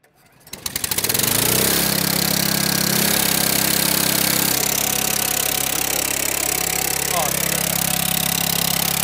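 An engine fitted with a thunderstorm generator starts with a sharp rattle and settles into a loud, steady, rough running drone close by, with a voice faintly audible at times.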